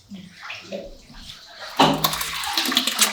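Milky bathwater drains from a bathtub through a strainer, a soft gurgle at first, then a sudden louder rush of splashing, pouring water that keeps going steadily.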